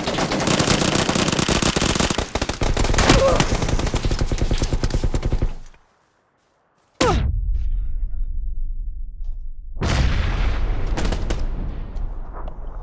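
Rapid automatic gunfire rattles loudly in PUBG on the Miramar map, breaking off into a short silence and then returning as sharp shots and bursts with trailing echoes.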